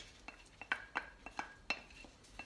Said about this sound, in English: So I'm going to drop that in the bowl